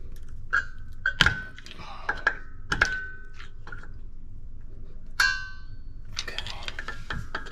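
The parking brake adjuster on a 2008 Acura MDX clicks through its detents, giving a series of sharp, irregular metallic clicks and clanks up close, with short quiet gaps between them.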